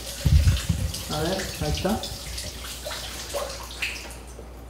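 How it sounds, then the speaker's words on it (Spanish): Seafood for caldo de mariscos being rinsed under a running kitchen tap: close splashing water that fades toward the end, with a brief spoken remark over it. "Se enjuaga un poquito."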